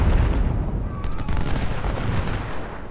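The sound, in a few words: artillery bombardment in video game Ultimate General: Civil War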